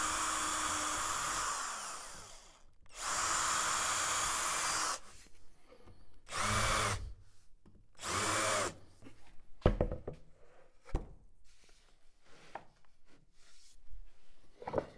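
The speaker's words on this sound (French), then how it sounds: "Percez ces points et utilisez un fraisoir pour noyer vos vis" Power drill boring holes, likely into wood panels for a cabinet, then countersinking for screws; several loud sustained whirring bursts of a few seconds each, separated by pauses with clattering handling noises.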